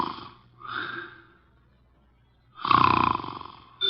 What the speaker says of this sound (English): he's making sounds through his nose